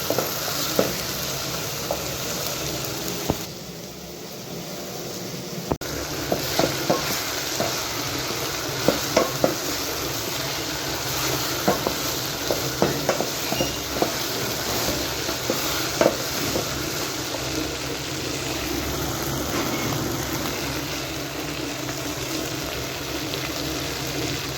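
Nigerian chicken gravy sauce stirred in a pan, a steady scraping and sloshing over continuous sizzling frying with scattered spoon clicks, close and fairly loud throughout.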